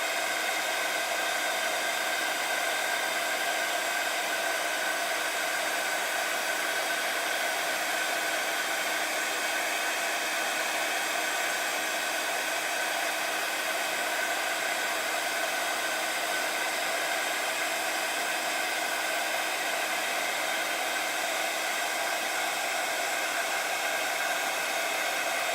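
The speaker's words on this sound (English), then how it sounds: "So just heat setting it." Steady loud hot-air rush of a craft heat tool used to heat set ink, continuous and unchanging throughout with no talking.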